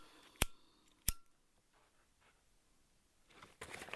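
Scissors trim the end of a zipper on a sewn crossbody bag, giving two quick, crisp snips about half a second apart in a quiet room, followed by a soft rustle of handling.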